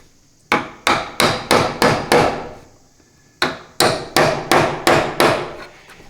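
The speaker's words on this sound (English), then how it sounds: "tap the nails in" Hammer tapping nails through the flanges of an electrical box into a wooden stud during barn rough-in wiring: a quick run of six sharp blows, a pause, then six more, close and loud.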